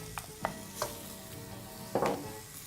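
Vegetables stirred in a pot for a Marrakesh vegetable curry, a spoon scraping in several distinct close strokes over a soft, steady sizzle, with no talking.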